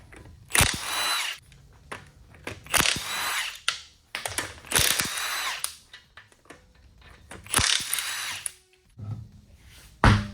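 An impact tool with a 7/8 socket removes the lug nuts from a 2013 Cadillac XTS wheel, firing several loud ratcheting bursts up close, split by pauses and faint clunks.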